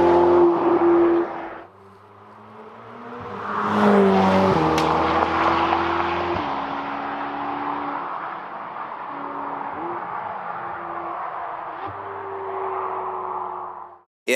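A 700+bhp Ferrari 488 Pista with a turbocharged V8 drives on roads in the Scottish Highlands around Loch Lomond. The engine is loud and close, rising through several gear changes and settling into a steady strong drone before briefly easing off.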